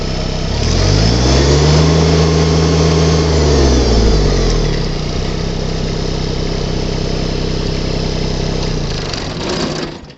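The small diesel engine of a New Holland Workmaster 25S subcompact tractor runs loud and close, revving up and back down before settling into a steady rough idle.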